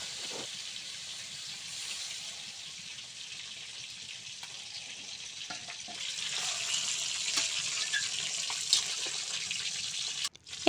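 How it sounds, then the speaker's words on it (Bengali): Broth water added to taro frying in a pan of oil, a soft steady sizzle and bubbling hiss that grows louder midway, with light stirring clatters and a sharp clank at the end. "এবার আমি কচুর ভিতরে ঝোলের জলটা দিয়ে দিলাম।"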